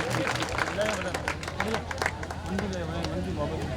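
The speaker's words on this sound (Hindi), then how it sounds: "तालियों की गड़गड़ाहट से राहुल जी का अभिनंदन करें" An audience at a community get-together and talent honouring ceremony in Kalandri block bursts into steady applause to welcome an engineer guest, the clapping sustained as a dense wash beneath a voice speaking over it.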